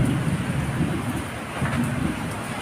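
Heavy rain pours steadily outdoors during a downpour, a dense continuous hiss with a faint low rumble underneath and no clear voices.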